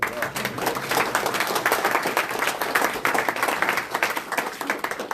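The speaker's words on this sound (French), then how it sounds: "On peut l'applaudir, peut-être" Attendees at a municipal council meeting in Les Rousses applaud a newly elected deputy mayor, a moderate room full of clapping hands that pulses unevenly for several seconds with faint murmuring underneath.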